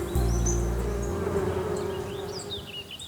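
Insects buzz steadily in a colourful cartoon flower garden, a close, continuous drone with light high chirps drifting over it and no talking.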